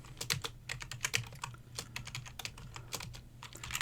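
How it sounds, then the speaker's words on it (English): Keys clatter in rapid, irregular bursts on a computer keyboard during a ColdFusion blog-programming session, close and steady over a low hum, with no talking. "this stupid keyboard's going to drive me nuts"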